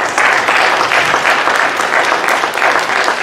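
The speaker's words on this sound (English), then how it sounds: "Now I want you to give God a hand clap of praise" A church congregation claps hands together in praise, a dense, steady, loud burst of applause filling the room without a break and with no voices on top.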